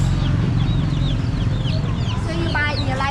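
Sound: live chickens clucking at wet market

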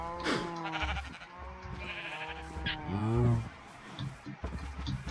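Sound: sheep bleating in Minecraft video game

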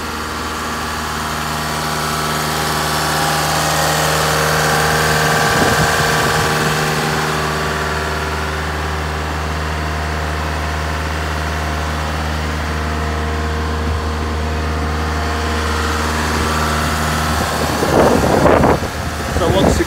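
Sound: diesel car engine idling at held revs

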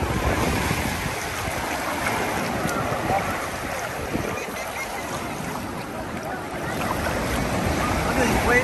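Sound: ocean waves breaking on the beach

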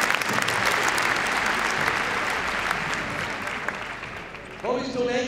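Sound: audience applause at Crufts dog show

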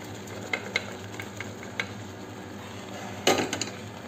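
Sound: cooked moong dal added and stirred into jaggery syrup

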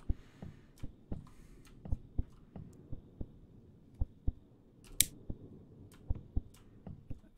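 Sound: heartbeat sound effect in horror video game Home From Work 2

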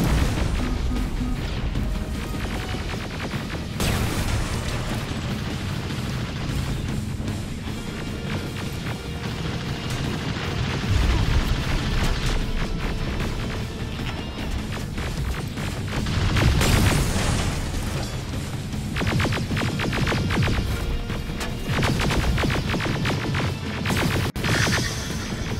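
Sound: bomb explosions in the video game Terminator Resistance

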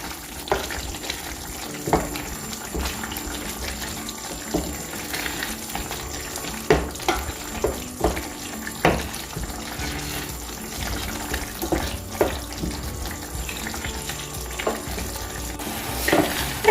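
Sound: pizza sauce boiling and splattering in a pot

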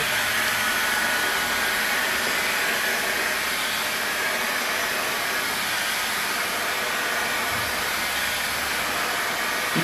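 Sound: heat gun heating 3M vehicle wrap film

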